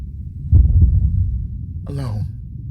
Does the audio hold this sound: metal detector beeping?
no